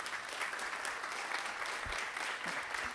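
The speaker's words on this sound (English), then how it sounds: "A round of applause, please." An audience applauds at a James Baldwin convening, the clapping dense and continuous from start to finish, heard at a moderate distance with no voices over it.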